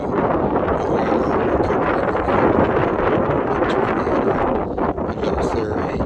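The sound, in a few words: wind blowing on a lake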